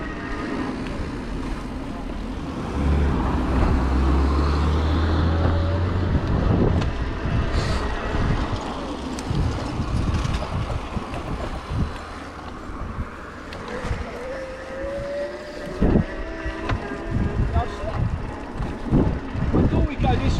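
Wind rushes and buffets across the microphone during a March bike ride, with a strong gust near the start and steady gusty noise throughout, under the riders' occasional talk.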